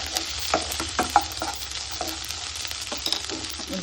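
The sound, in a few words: sweet corn frying in oil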